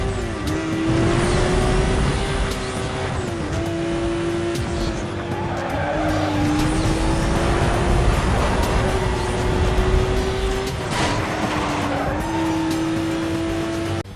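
A Porsche flat-six engine in the racing game Need for Speed Most Wanted (2005) revs loudly and continuously, its pitch climbing and dropping with each gear shift, accompanied by squealing, skidding tires.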